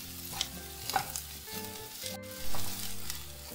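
Ground ginger paste sautés in a pan for a prawn fry, giving a soft, steady sizzle with scraping stirs and light clinks, close but faint, with no talking.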